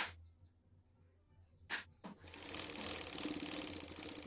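A sewing machine stitches a crop-top, starting after a few faint bumps and then running in a loud, steady, close whir that continues to the end.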